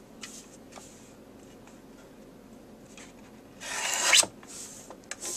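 Scissors or a blade trim the edges of a calendar page picture for a card, with faint scratchy cuts early, then a louder close rasping snip that stands out near the end.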